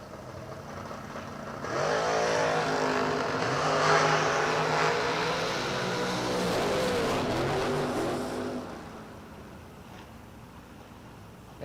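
A dragster and an S10 race down a drag strip at a New Year event: the engines roar up sharply, rise in pitch for several seconds as they accelerate away, then fade into the distance.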